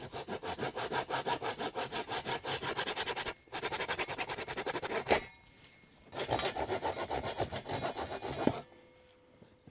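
Steady back-and-forth strokes of a Japanese saw cutting through wood during a kitchen renovation, close and loud, pausing briefly twice before resuming, then stopping near the end.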